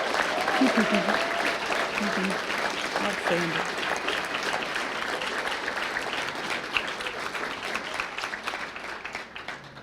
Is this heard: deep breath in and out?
no